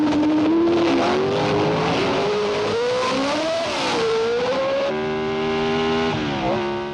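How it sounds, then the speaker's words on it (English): Race cars at the Monte Carlo Grand Prix scream past, engine pitch rising and falling as they shift gears and sweep by. The high whining notes are loud and close at first, then taper and change as the cars pass. "Now that Stoddart's out in the lead, his lap times are getting faster and faster, and he's drawing steadily away from Sarti"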